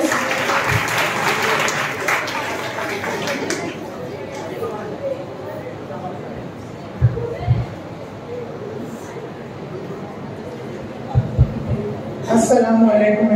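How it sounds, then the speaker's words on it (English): Students and teachers applauding at a junior college farewell event, loud clapping at the start that fades into room murmur and chatter, with a few knocks and a short burst near the end. "Round of applause for him,"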